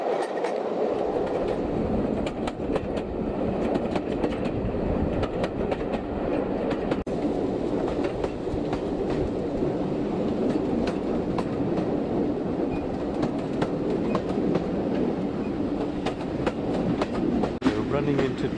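Steam train rolling across Greenway Viaduct on the Dartmouth Paignton railway, a steady loud rumble of carriages with rhythmic wheel clatter throughout, close and continuous, with voices faintly present under the noise.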